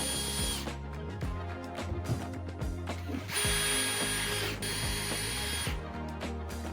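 A power drill bores into wood while a honey super for a beehive is being built, the motor whining in repeated loud bursts with short pauses and rising pitch as each hole is started and finished.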